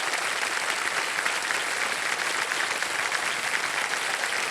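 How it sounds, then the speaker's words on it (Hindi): Steady, dense applause from a studio audience on a Hindi TV quiz show, filling the whole stretch at an even level with no talk over it. "तालियां बज जाएं इनके लिए"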